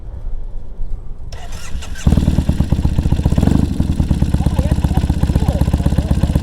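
A Triumph motorcycle engine cranks briefly and then fires up, settling into a loud, steady, throbbing idle up close, with a voice faintly heard early on.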